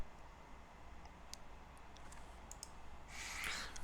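A few faint, sparse computer mouse clicks sound in a quiet room, with no talk.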